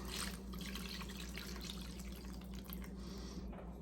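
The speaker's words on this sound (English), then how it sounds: "So we're just going to put some water in here." Water is poured into a plastic seed-starting tray for bottom watering, giving a continuous, close trickling and splashing that holds steady throughout at low volume.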